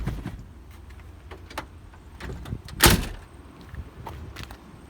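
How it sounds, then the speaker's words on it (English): A 1959 Ford Fairlane 500 Galaxie Skyliner door is shut firmly, one sharp solid slam midway through, set among light clicks and handling noises with no talking. "it's a classic car, so you kind of gotta shut the doors firmly"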